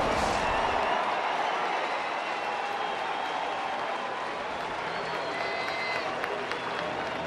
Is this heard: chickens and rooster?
no